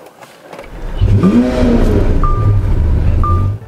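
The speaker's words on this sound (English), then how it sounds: "we gotta get the car starting" A car engine cranks and catches, then revs up in a rising roar and settles into a loud, steady idle with a faint beeping chime recurring.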